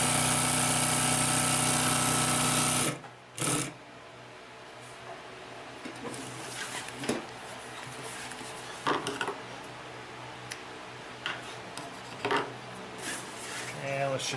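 A Consew P1255RB heavy-duty sewing machine stitching through two layers of heavy canvas-type fabric: a loud motor hum cuts off, followed by quieter intermittent mechanical clicks and thumps, with someone talking throughout.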